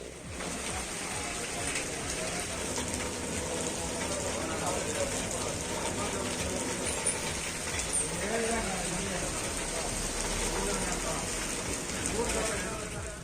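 Dense, steady heavy rain fills the whole stretch in Chamarajanagar district, Karnataka, a broadband wash of a downpour, with faint voices or background murmur beneath it.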